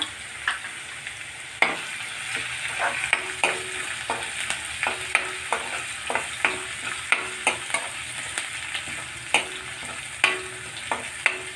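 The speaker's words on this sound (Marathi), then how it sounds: "लसूण भाजत असताना त्यात आपण टाकणार आहोत मिरची बारीक चिरून घेतलेली मिरची टाकूया" Garlic and finely chopped green chili fry in hot oil for a tempering, a soft steady sizzle broken by frequent clicking stirs of a spoon against the pan.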